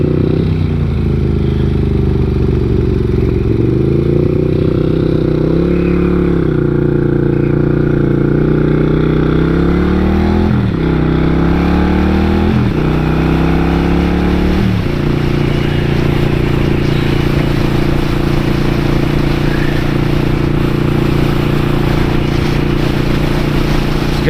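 A 1999 Suzuki Intruder 800 motorcycle engine on a test ride, loud and close, rising and falling through several gear changes with revs climbing and dropping, then settling into a steady cruise with wind noise.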